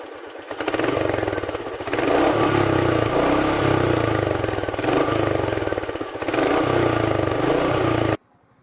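A Royal Enfield Meteor 350 motorcycle with a large exhaust rumbles steadily at close range, a continuous low engine drone with slight throttle swells that holds for about eight seconds before cutting off.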